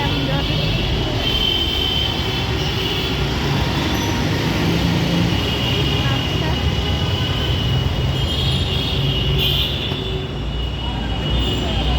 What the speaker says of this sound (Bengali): আমরা এখন মেট্রোতে উঠবো।